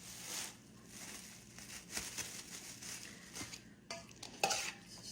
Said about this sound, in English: Stir it around, get it all mixed in there good.